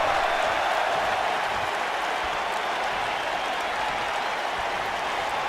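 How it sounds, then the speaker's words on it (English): A WWE 2K19 arena crowd roars and cheers in a steady, dense wash of noise that holds at full volume throughout, with no talk over it. "the crowd is already chanting for Daniel Bryan"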